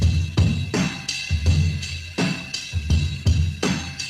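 A sampled drum break tuned down to a lower pitch plays alone, with heavy kick thumps and snare hits repeating in a steady, looping groove at a loud, close level.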